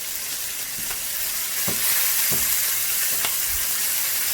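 Tomatoes sautéing in a pan, a dense continuous sizzle and hiss with a few stirring scrapes and clicks, close and loud.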